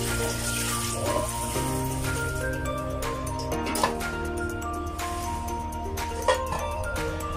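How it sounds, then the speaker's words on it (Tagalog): Water pours into a pressure cooker holding pork ribs for pocherong buto-buto, a continuous splashing stream running steadily throughout, with faint clinks over it. "Lagyan natin ng tubig guys."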